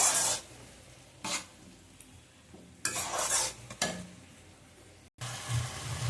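Spice masala frying in oil for a yogurt chicken dish, with close, energetic stirring scrapes and clinks of a utensil against the pan over a bright sizzle, coming in irregular bursts.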